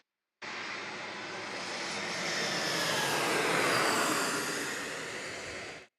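A jet airliner arriving to land at San Diego passes overhead as a broad roaring rush that swells to a peak near the middle and then fades, with no talk.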